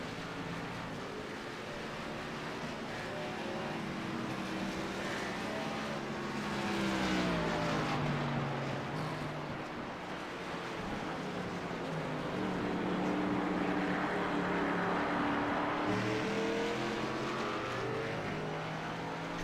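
ARCA stock race cars at Sonoma Raceway roar past in a loud, continuous engine drone that rises and falls as cars pass through and away from a hairpin, with several cars overlapping.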